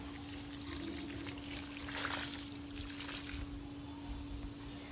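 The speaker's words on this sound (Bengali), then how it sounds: "আমি গাছে জল দিয়ে গাছে জল দিই" Water trickling and splashing steadily as garden plants are watered by hand outdoors, a soft continuous flow with a brief louder pour in the middle, over a constant background hum.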